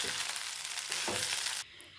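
Fried rice sizzles hard in a hot pan as red chilli sauce is stirred through, a dense crackling hiss with a couple of scraping stirs, cutting off abruptly near the end.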